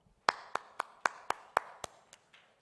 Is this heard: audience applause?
yes